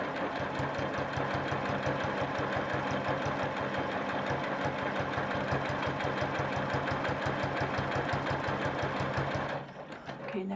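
Sewing machine stitching a whole cloth quilt, a steady rapid mechanical chatter running loud and close for about nine and a half seconds before slowing and stopping.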